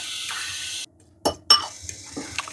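Chimichurri being stirred in a bowl, a few brief clinking scrapes of a utensil against the dish after a short pause, close and fairly quiet.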